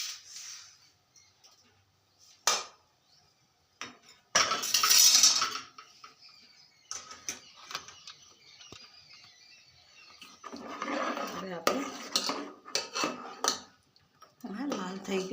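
Roasted sesame seeds scraped and lifted out of a pan with a metal spoon, giving scattered clinks and scraping rustles at close range, with a louder burst midway and quiet stretches between.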